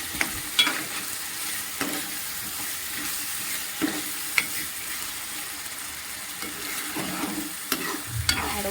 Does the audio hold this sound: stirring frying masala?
yes